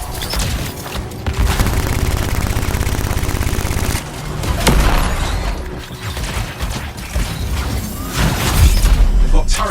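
Turret gunfire in the Anthem video game, rapid sustained bursts of automatic fire broken by short pauses and heavy booms, loud and close with other combat noise mixed in.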